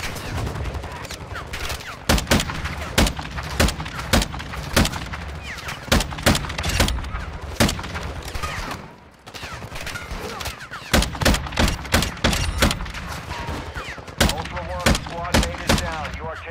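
A shooter video game fills with repeated sharp gunshots at an irregular rhythm, loud and close, over steady combat noise. Voices talk faintly underneath.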